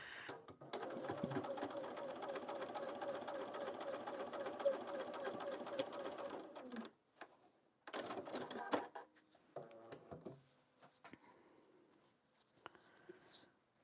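A sewing machine stitches fabric scraps in one steady run of about six seconds, followed by a short second burst and then scattered light clicks and handling sounds before near silence.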